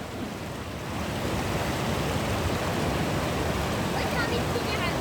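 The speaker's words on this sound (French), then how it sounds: "C'est l'eau qui coule. Ouais. C'est beau, hein. La cascade." A Patagonian waterfall on the Seven Lakes route pours in a dense, continuous white-noise rush, steady and fairly loud, with people talking over it.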